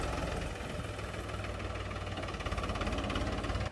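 A tractor engine runs steadily throughout, a close, continuous idling rumble with a knocking mechanical throb and no talk over it.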